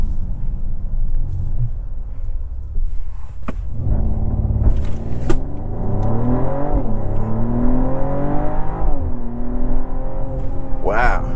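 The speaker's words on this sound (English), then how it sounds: "let's go and try a quick acceleration up here. We're in Sport Plus." A 2024 Mercedes GLE53 AMG in Sport Plus mode launching hard: low engine rumble rising into a loud climbing rev with gear-change dips, heard from inside the cabin after a quieter idle and a few knocks.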